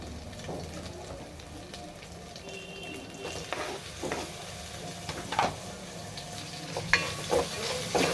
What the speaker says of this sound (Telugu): ఇప్పుడు ముందుగా కట్ చేసి పెట్టుకున్న టమాటాలు ఇందులో వేసుకోవాలి